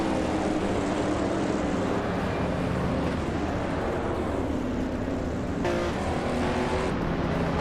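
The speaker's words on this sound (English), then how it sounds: "the race is kicking off at Barbagallo with the 1970s slow cars class" A field of 1970s-class race cars, including a 1973 Lancia Stratos, launches off the line at Barbagallo in a racing game, their engines a dense continuous roar that swells and drones with no pause.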